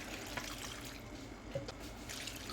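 Water pours into a pot of dried apricots in a kitchen, a faint, quiet trickle and splash with a few small drips, low and steady over a soft background hum.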